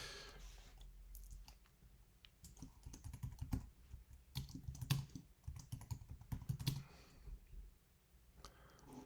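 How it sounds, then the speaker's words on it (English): Keys clatter on a computer keyboard in a dark room in bursts of quick, uneven taps, with a few pauses and some softer fumbling clicks between runs; no one speaks. "I'm trying to type in the dark here."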